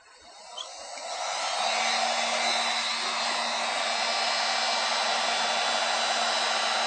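Heat gun warming an aluminum panel during dent repair, starting up and then blowing as a loud, steady, close airy roar that carries on without a break for several seconds, with no talk.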